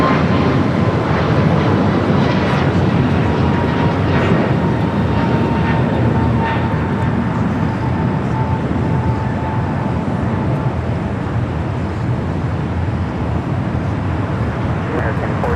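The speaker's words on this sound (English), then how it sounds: "There we got that American at 777 up next for arrival here on the south side." An American Airlines Boeing 777-200ER, 27 years old and inbound from Miami, arrives at Los Angeles airport on the south side with a steady, sustained jet roar, and voices come and go over it.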